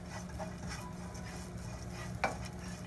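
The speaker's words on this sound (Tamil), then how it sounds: "இப்போ வந்து நம்ம தேங்காவை லைட்டா ட்ரை ரோஸ்ட் பண்ணி எடுத்துக்கலாம்." Grated coconut dry roasted in a pan for sweet kozhukattai, heard as soft, close stirring and scraping with a faint sizzle and one sharper utensil clink near the end, with no talking.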